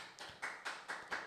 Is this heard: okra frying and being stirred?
no